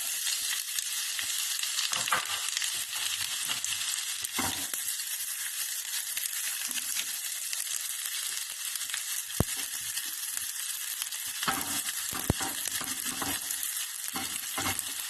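Onions sizzle steadily in a hot pan for a Filipino sautéed chicken liver dish, a dense, loud frying hiss with occasional sharp stirring clicks and scrapes, no voices.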